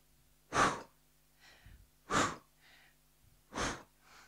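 Slow, deliberate breaths during a yoga workout, three strong exhales through the mouth spaced about a second and a half apart, each followed by a quieter inhale, close and clear with no talking.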